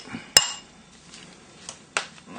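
A spoon knocks and scrapes against a bowl while goat's cheese filling is bashed and mixed, with a sharp clink near the start and two softer knocks later, close and fairly quiet with no talking.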